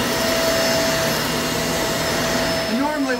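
A Shark vacuum cleaner sweeps sand from carpet with a steady, loud motor whine that holds constant throughout, a brief voice surfacing near the end.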